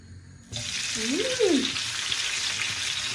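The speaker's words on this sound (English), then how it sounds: "Now I'm going to put my onions and my tomato." Onions and tomato dropped into hot oil burst into a loud, sudden sizzle that then settles into a steady frying hiss, close and with no talking.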